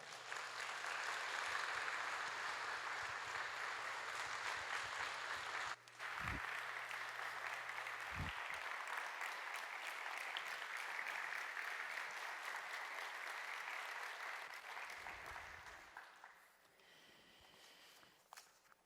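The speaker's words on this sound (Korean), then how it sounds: "우리 감사한 마음을 담아서 큰 박수로 맞이하도록 하겠습니다" A church congregation welcomes a missionary with a long round of applause, steady clapping with a few footsteps and thumps beneath, fading out near the end.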